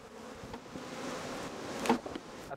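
Honeybees buzz around a colony in a low, steady, continuous hum with faint texture, heard fairly quietly and with no one talking.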